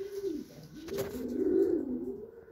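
Racing pigeons from a national top competition coo close by, a soft rolling low call that swells and sustains, with a brief flutter near the start.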